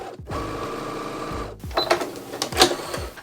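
A sewing machine stitching darts on a dress, running in a quick mechanical rattle, then pausing with a few short clicks and clunks as the fabric is adjusted, close and moderately quiet.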